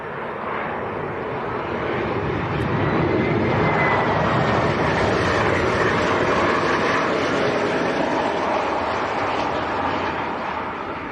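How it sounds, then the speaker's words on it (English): A Ryanair airliner from Dublin lands at Leeds Bradford Airport, heard as a loud, steady broadband engine roar that swells slightly and holds throughout, with no voices. "Next arrival on finals. Ryanair from Dublin."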